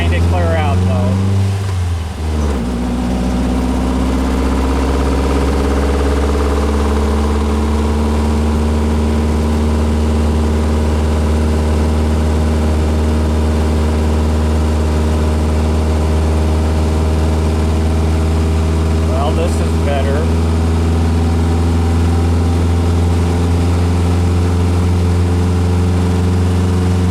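A VW car running on the road after a rocker arm swap: a steady, close engine drone with a deep low hum. A gear change near the start shifts the tone, then it holds an even, slightly climbing pitch.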